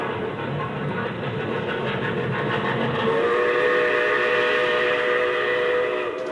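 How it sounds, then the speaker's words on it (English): A loud train whistle sounds over the heavy rumble of a train, which grows and rolls on as it pulls away. "Come on, Albert, that's a train."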